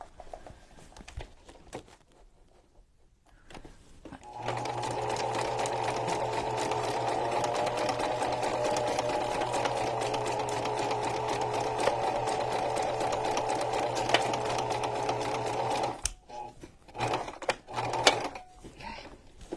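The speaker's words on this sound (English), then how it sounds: "All right, so just sewing this on here." A sewing machine stitches fabric for a journal cover in a steady, quick mechanical whirr lasting about eleven seconds, close and moderately quiet, with handling clicks and taps before and after.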